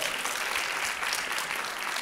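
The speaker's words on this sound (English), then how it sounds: "Give yourselves a hand. Another hand." An audience at an evening event with Sofia Coppola applauding: dense, steady clapping from a large crowd that fills the whole stretch at an even loudness.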